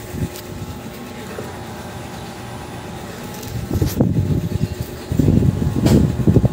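A DTF printer runs with a steady mechanical hum and fan noise, then louder rumbling bursts of moving parts join in partway through, close by.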